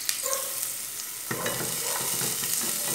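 Chopped onion fries in a hot pan with garlic for a pequi dish, a steady close sizzle with a sharper burst of frying and stirring scrapes partway through.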